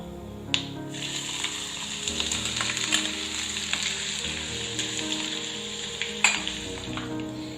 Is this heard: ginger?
yes